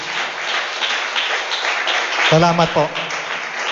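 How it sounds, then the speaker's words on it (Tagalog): A church congregation claps in a broad, continuous wash of applause, loud and near, while someone speaks briefly over it. "Parang hindi ako matatapos kapag ganyang kahina yung palakpak."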